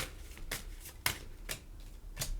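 Tarot cards being shuffled by hand, with a series of soft, crisp riffling bursts repeating at an uneven rhythm, close up.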